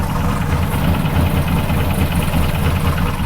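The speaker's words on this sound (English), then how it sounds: "Super hard to diagnose with the exhaust this loud," A Cadillac engine idles with a loud exhaust, giving a continuous rough rumble with a steady low throb and faint ticking knock, close and unbroken, with no talk.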